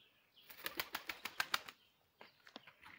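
A female Arab pigeon flaps its wings in a quick burst of about eight sharp claps, close by, then gives a shorter second flurry after a brief pause.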